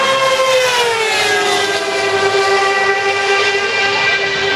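A Formula One car and a V8 supercar racing at a Sydney circuit, heard as a loud, sustained high-pitched engine whine that slides slightly lower in pitch, with nothing else heard over it.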